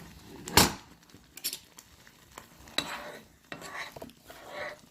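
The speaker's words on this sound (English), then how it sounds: "I'm going to stir it." Utensil stirring food in a Cooker King forged nonstick pan, a sharp scrape followed by soft intermittent scraping and light clinks against a faint sizzle, close and quiet.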